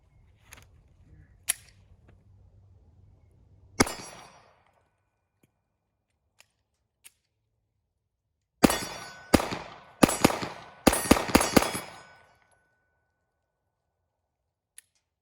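Shots from a Glock 43 pistol at a shooting range: one sharp crack, then a quick string of about eight cracks a little apart, each ringing briefly, with quiet gaps between.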